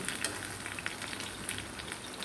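Pazhampori banana fritters frying in oil make a soft, even sizzle with light crackles, fairly faint and continuous with no one talking.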